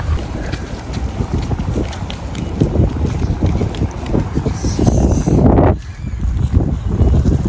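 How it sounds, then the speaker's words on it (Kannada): Strong wind roars across a beach microphone in a steady, loud rush with gusting rumble, briefly easing near the end before blowing hard again. "ಬಂದ್ವಿ ಇಲ್ಲಿ ಬೀಚ್ ಹತ್ರ ಫುಲ್ಲು ಗಾಳಿ ಹೊಡಿತಿದೆ"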